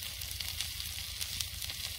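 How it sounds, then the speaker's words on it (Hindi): Chopped onion frying with okra in a pan, a quiet, continuous close sizzle with faint crackles throughout. "भिंडी फ्राई हो गई है और अभी हम भिंडी के साथ पैन में डाल लेते हैं प्याज"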